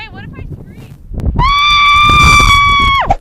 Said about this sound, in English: Wait, what if I scream?